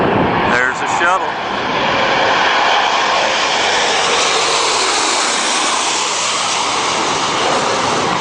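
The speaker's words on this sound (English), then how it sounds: "Take a look and take a listen to those jet engines." A space shuttle comes in to land with a loud, steady broadband engine-like roar that holds throughout, with a brief voice early on.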